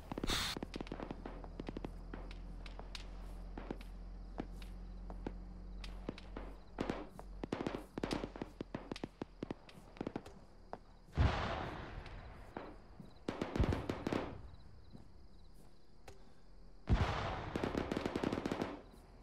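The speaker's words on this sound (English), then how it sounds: "we're taking fire from the town to our northwest" Incoming gunfire from a town in a ShackTac military game rattles as scattered sharp shots and short automatic bursts over about twenty seconds, with heavier reports late on, all distant to mid-range amid faint footsteps.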